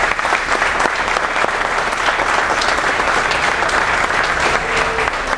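Sustained applause from an audience at a press conference aboard a cruise ship, dense and steady clapping throughout without letup.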